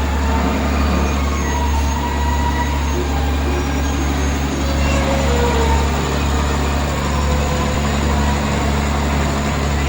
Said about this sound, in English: Just had to put an ambulance in the parade.